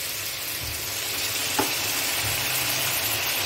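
Potatoes frying in a pan with tomatoes, asafoetida and garam masala, giving a steady close sizzle with a brief stirring scrape midway.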